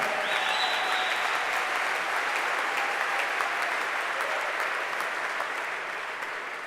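Guests at an athletics hall of fame gala applaud in a large room, the clapping broad and continuous at first and then easing off gradually toward the end.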